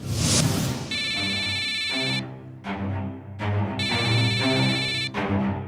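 An electronic phone ringtone sounds in two long bursts, loud and close, over a busy low background.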